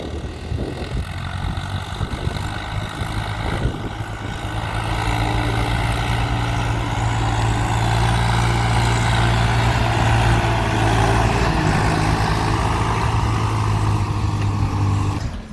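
A farm tractor drives across a field during sowing, its heavy engine droning steadily and growing louder as it approaches, with no talk.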